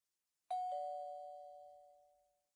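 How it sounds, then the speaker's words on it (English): A two-tone ding-dong doorbell chime rings once in the visual novel game Amnesia: Memories, bright and clean, decaying smoothly over about two seconds with no talk. "Ding dong."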